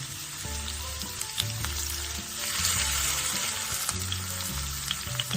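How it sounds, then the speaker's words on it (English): Steady, loud sizzling of vegetable tempura frying in hot oil in a pan, a continuous crackling hiss throughout with no voices. "After shaping it into a compact form, put it into the frying pan."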